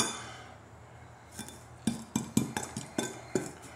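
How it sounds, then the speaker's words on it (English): Rosemary and parsley seasoning being mixed in a bowl with a fork, a string of sharp clinks and taps against the bowl, fairly close, after a quiet start. "we're going to get that in a bowl, and then we're going to just mix this nice and good"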